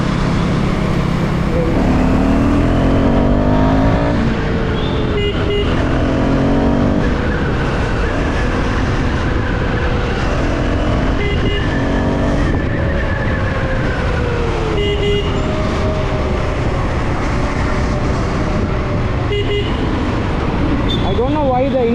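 Husqvarna Svartpilen 410 motorcycle pulling away in third gear on an open road, engine note climbing steadily under heavy wind rush, with a voice talking over it now and then.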